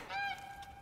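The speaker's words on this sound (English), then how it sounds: "it's a duck." A single drawn-out honking duck call from the video game The Unfinished Swan, close and clear, fading out over under a second.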